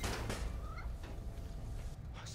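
A cat meowing in the video game Spider-Man: Miles Morales, a short faint mewing call over low game ambience.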